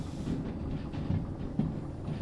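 Train rolling along the track in the Derail Valley railway simulator, a dense low rumble with light rhythmic clatter of wheels, continuous and fairly close, no voices over it.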